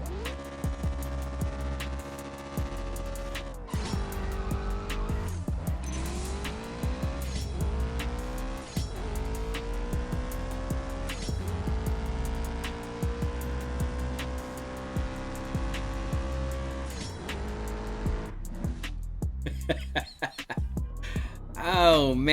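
Racing engine revving hard through gear changes in the mobile drag-racing game CSR2, a stage 2 car with nitrous hit during the run, loud and continuous with rising pitch sweeps at each shift.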